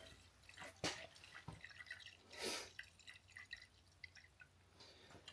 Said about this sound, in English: And we'll get all the coolant drained out.